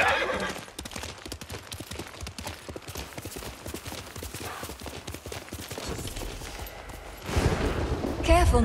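A horse in the samurai action game Ghost of Tsushima whinnies and its hooves clip-clop steadily, with game ambience and a louder burst near the end.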